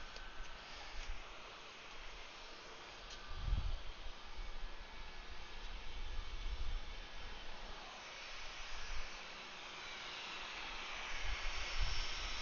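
An A320 airliner departs from Atlanta airport, its engines heard at a distance as a low, steady rushing roar that swells and fades over several seconds.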